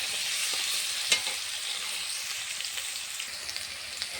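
Potatoes sizzle steadily in hot oil with a pinch of salt, a continuous bright frying hiss with occasional sharp pops and stirring clicks, close and fairly soft, no voices.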